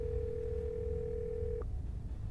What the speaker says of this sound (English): and then dial tone.